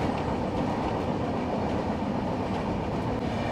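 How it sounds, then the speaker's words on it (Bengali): The Bikaner–Sealdah AC Duronto Express rolls past with a steady, loud rumble and faint rhythmic wheel clatter, continuous throughout with no voices. "12260 বিকানির থেকে শিয়ালদাগামী এসি দুরন্ত এক্সপ্রেস।"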